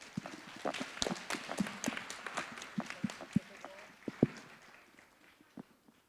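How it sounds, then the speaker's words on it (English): An audience at an international academic forum in Hong Kong claps for panelists at the end of a session, scattered and uneven hand claps, fairly faint, with voices talking over them. "let's give our panelists a great round of applause"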